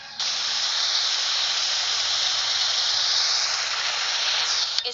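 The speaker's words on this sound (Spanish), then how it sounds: "Cascada." Ambient waterfall effect from the video game Glori Frontline: a steady, bright, rushing hiss of falling water that holds evenly from start to finish with no voices.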